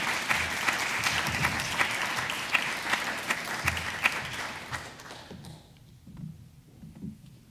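An audience applauds steadily to welcome a lecturer at an evening talk, a dense wash of many hands clapping that thins and dies out after about five seconds, leaving a few scattered claps in a quiet room.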